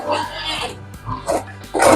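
A sow grunting in a farrowing pen on a pig farm, several short low grunts and snorts at close range, mixed with shuffling and a person speaking nearby.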